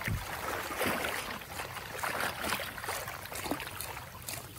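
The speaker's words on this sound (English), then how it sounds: "Here's that duck muck running." Duck Butt mud motor boat running in light rain, water splashing and churning with a steady rushing wash up close, and the motor's hum sitting low under the spray.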